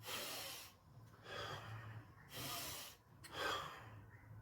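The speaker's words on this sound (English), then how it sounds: "What you require is deep breathing." Slow, deep breaths drawn in and pushed out, three or four heavy airy breaths close and quiet, each a breathy hiss with short pauses between.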